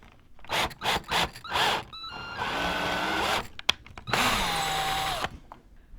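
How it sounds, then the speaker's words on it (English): A power drill drives a screw into wood to start a pilot hole for hanging a headboard: several short, rhythmic trigger bursts, then two longer whirring runs that strain as the screw bites, loud and close. "Take your screw and go ahead and run it in there either with a screwdriver or a drill. This creates a pilot hole."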